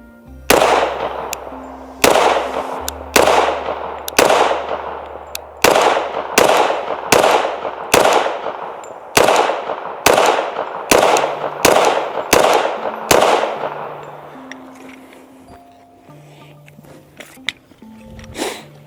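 A CZ P-10F .45 ACP pistol fired outdoors: about twenty loud, sharp shots in a steady, fairly quick rhythm, each with a short echoing tail, then quiet.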